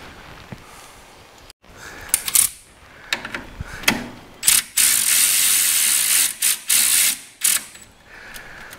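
A ratchet wrench torques down aluminum brake caliper bolts during a 1964 Buick Riviera disc brake conversion, giving scattered clicks followed by several loud, close bursts of rapid ratcheting.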